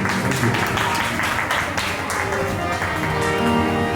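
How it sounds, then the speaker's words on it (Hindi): Audience clapping at a Hindu devotional singing event, a steady dense patter of hands filling all four seconds, with voices mixed in underneath. "एक थोड़ी सी तालियां बजा दीजिए"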